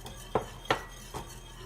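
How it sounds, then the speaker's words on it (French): Cornstarch being stirred into a pan for a broccoli pasta gratin, with three quiet, close scraping clinks of a utensil against the pan, spaced unevenly over a faint background hum. "On mélange et on remet sur le feu tout en mélangeant."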